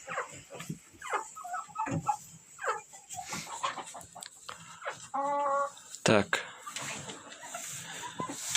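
Chickens cluck and squawk in a coop in scattered bursts close by, some calls sharp and loud, while a person talks intermittently.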